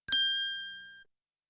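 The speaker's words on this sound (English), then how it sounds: "Speak after the bell." A single bell struck once in a language lesson, signalling the learner's turn to speak; a clear bright ding that rings for about a second and then stops, alone with no talk.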